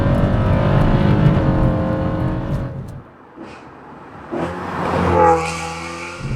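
A V8-swapped BMW 1M roars under hard acceleration, its engine note climbing, then dropping off as the throttle lifts before surging again through another rising pull, loud and close.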